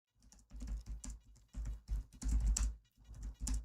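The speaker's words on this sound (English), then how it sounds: "Hear me typing?" Quiet, rapid tapping on a computer keyboard in short bursts of keystrokes with brief pauses between them.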